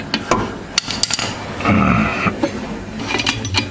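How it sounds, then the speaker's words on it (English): A secondary clutch retaining bolt on a Polaris Sportsman ATV being loosened with hand tools: close, loud metallic clanks and clicks in irregular bursts, with a short sustained grinding stretch in the middle. "Time to pull the retaining bolt on the secondary clutch."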